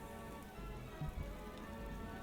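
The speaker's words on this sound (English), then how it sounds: "I can't help but notice that it rains a lot in their park." Rain falls in the park-building video game Parkitect as a steady, dense hiss of drops on surfaces. It runs unbroken and even at a moderate level, with no voices over it.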